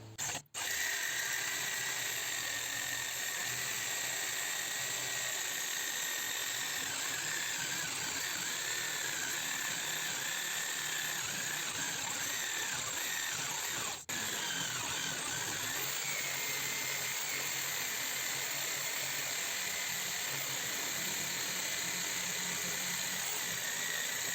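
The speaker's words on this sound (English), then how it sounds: "So I'm actually going to try the jigsaw and see how successful that is." A jigsaw cuts through a metal awning channel bracket in one continuous, loud, buzzing run lasting over twenty seconds, close by and without talk.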